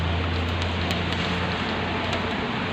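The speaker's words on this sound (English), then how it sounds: "It's raining." Steady rain falls outdoors in Qatar as a dense, even hiss with scattered drop ticks, loud and unbroken throughout.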